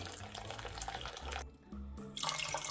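Water poured from a tap over dry beans set to soak for cooking, a continuous splashing, running stream that briefly stops and then resumes, heard close and alone.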